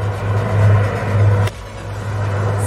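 A bus on the Anhanguera highway rumbles low and loud nearby, its engine droning as it pulls away, then the sound drops off abruptly partway through.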